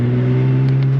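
Steady loud engine hum from a car, a 1956 Chevrolet Bel Air or 1978 Porsche 911 SC, pulling over, with a strong low drone heard from inside the cabin and no talking.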